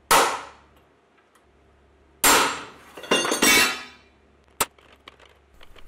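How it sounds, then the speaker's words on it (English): A bicycle steerer tube is pressed out of a custom cargo bike frame, releasing in sharp loud metallic cracks and clangs, one at the start, then a cluster of bangs midway and a brief clink later, separated by quiet. "It also might seem like I'm hammering on top or something, but it's really just the steerer coming loose in small steps."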